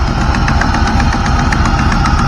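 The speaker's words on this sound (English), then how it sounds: "That popping sound is exhaust leak." A 1997 SS Camaro engine runs with an exhaust leak, giving a rough, continuous rumble broken by rapid popping pulses, loud and close for a couple of seconds.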